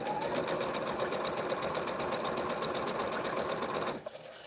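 Sewing machine stitching quilt block pieces, a fast, even mechanical whir with rapid needle clatter close by, stopping abruptly near the end.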